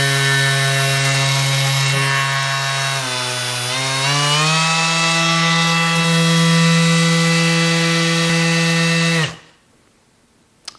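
A cordless square-pad detail sander runs continuously with a loud, close buzzing whine whose pitch dips briefly and recovers before it switches off abruptly, followed by a faint click.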